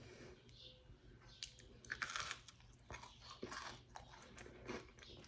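Crunchy oatmeal chocolate chip cookies are bitten and chewed up close, giving a quiet series of irregular crisp crunches and soft mouth sounds.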